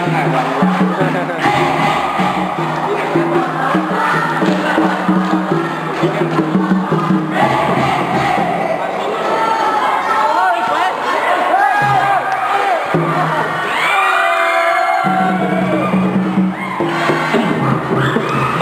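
First-year students cheering at a university sports day, a loud continuous crowd of chanting and shouting voices close by, with a public-address voice talking over it.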